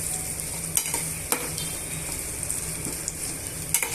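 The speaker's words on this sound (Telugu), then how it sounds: "ఇప్పుడు ఇవన్నీ కూడా బాగా మిక్స్ చేసుకొని వేయించేసుకున్నామండి" Onions, green chillies and peanuts stir-fry in a pan for rava upma, giving a continuous bright sizzle broken by several scraping spatula strokes at irregular intervals, close up with no voices.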